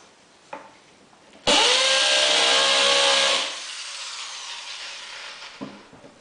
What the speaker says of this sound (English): what you'll notice about a hammer drill,